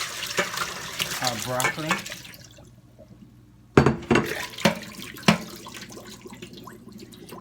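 Boiled broccoli is drained into a kitchen sink as water pours and splashes in a few sharp bursts, following a stretch where a person talks.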